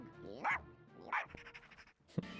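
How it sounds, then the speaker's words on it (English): Barks and whimpers from Goddard, the robot dog in a Jimmy Neutron video game, in a few short yips with whiny rising tones, close and clear, followed by a sharp thump and a burst of noise. "Who's that good robot dog?"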